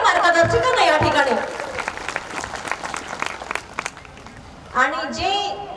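An audience at a spiritual gathering claps in a burst of applause that rises between stretches of someone talking through a loudspeaker, the clapping moderately loud and roomy, fading out as he resumes.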